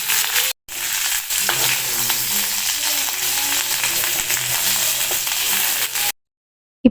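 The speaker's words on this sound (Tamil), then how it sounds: "கருவேப்பிலை, அதையுமே இதுலயே போட்டு ஃப்ரை பண்ணிட்டு அந்த புளியுமே லாஸ்ட்டாக ஆட் பண்ணிக்கோங்க" Curry leaves and tamarind fry in a pan, giving a steady close sizzle with faint stirring for about six seconds, broken by a brief gap near the start and ending in silence.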